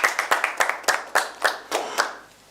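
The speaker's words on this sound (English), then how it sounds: "A round of applause for all of you" Audience on an accountancy quiz TV game show in Nigeria gives a short burst of clapping, a handful of crisp, separate hand claps in a loose rhythm that thin out and fade within under three seconds.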